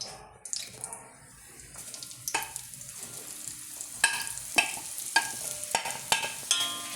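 Pieces of chapati tossed and fried in ghee for ada pradhaman, with a soft sizzle and a handful of sharp spoon-scraping strokes against the pan that grow more frequent toward the end, close by with no talking.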